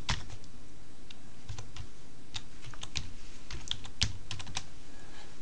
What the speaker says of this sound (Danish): Og her vil jeg godt skrive, at Maj-Britt skal med.